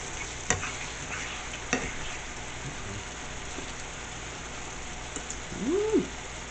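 Taco meat frying in a pan with a lot of grease, a steady soft sizzle with a few sharp pops and a brief voice near the end.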